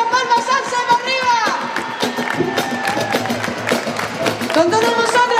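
Festival concert crowd at the Fiestas de San Sebastián de los Reyes clapping along steadily to a live pop song, with cheering and shouts over the music.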